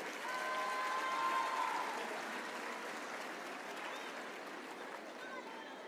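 Sustained audience applause at a school folk dance gala, a broad wash of clapping that stays steady for several seconds before easing slightly, with a faint crowd murmur underneath.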